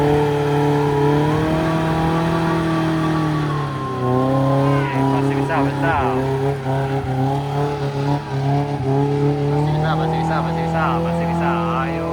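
A Jeep engine revs and accelerates loudly on an off-road test course at Kayu Duo, Muaro Aie, its harmonic engine note rising and falling steadily throughout while people shout and talk over it.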